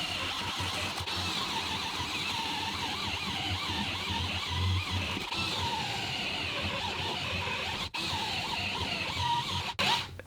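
Parkside PSBSAP 20-Li A1 cordless impact driver drilling, played back sped up, giving a continuous steady whine and rattle with a brief drop near the end; no voices.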